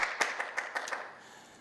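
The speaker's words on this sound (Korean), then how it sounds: "우리 다시 한번 하나님께 영광의 박수 드리겠습니다" A church congregation claps during a Sunday worship service: a short, moderately loud run of clapping with several distinct slaps that thins and fades within about a second and a half.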